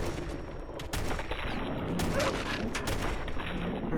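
Gunfire in a modded Fallout 4 game: a steady run of loud, close shots and rapid bursts, fairly dense and continuous, with the crack of each shot standing out above the game's background noise and no talking.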